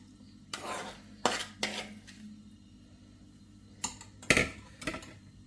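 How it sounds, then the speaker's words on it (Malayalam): A spoon scrapes sautéed chutney ingredients from a pan into a mixer jar, with several separate metallic scrapes and clinks spaced irregularly over a quiet background hum. "അപ്പോൾ നമുക്കിത് മിക്സിയുടെ ജാറിലേക്ക് ഇട്ട് കൊടുക്കാം"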